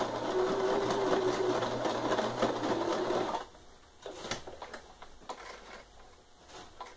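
A sewing machine stitching the seam of a fabric slipper, rattling rapidly and steadily for a few seconds up close before stopping, followed by light handling noises.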